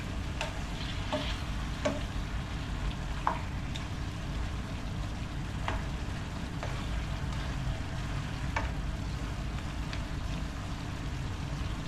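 Chicken pieces frying in oil in a pan for kalderobo, a steady close sizzle and crackle with a few sharp pops and light stirring scrapes, no talking.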